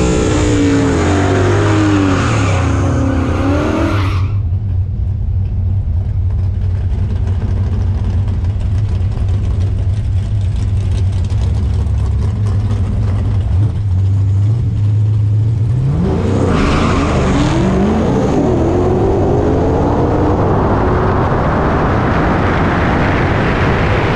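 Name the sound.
nitrous small block Ford drag car racing pass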